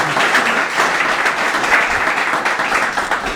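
A church congregation in Sohar, Oman, claps together in steady, sustained applause, loud and close, with no break across the whole stretch.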